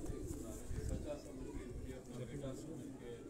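Low, soft cooing from pigeons at a rooftop loft in Quetta, a steady murmur running through the whole stretch beneath nearby voices.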